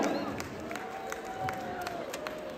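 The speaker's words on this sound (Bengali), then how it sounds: "জোরে একটা হাততালি ফারুক ভাইয়ের জন্য" A crowd applauds and claps at an indoor pitha fair in London as a guest is welcomed, a steady patter of hands with scattered cheers under a faint murmur of voices.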